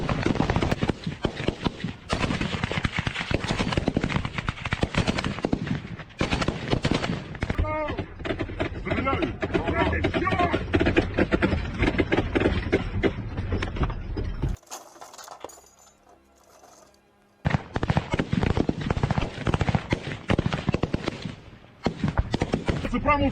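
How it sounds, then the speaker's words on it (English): Gunfire crackles during a Humvee assault by Ukrainian soldiers on a Russian-held village: dense, rapid bursts of shots and impacts run almost without a break, fall quiet for a couple of seconds, then resume loudly, with voices mixed in. "The sound of gunfire echoing across the war-torn landscape is deafening"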